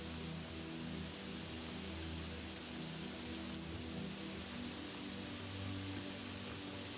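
Heavy rain falling steadily in a forest, a dense, constant wash of drops with a low rumbling undertone, loud and unbroken with no voices.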